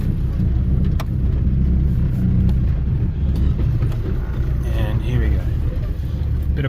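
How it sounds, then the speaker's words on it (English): A Land Rover 300Tdi diesel engine with loose engine mounts drones steadily as the vehicle crawls in low range up a steep rocky track at Yarra Mountain, a continuous low rumble with rattles and a voice talking over it. "we'll ignore the sound of my engine mounts being loose on one side"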